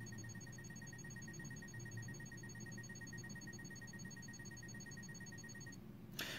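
Timer alarm on a Braille Edge 40 braille display, a rapid electronic beeping pulse that repeats evenly for about six seconds over faint room hiss, then stops.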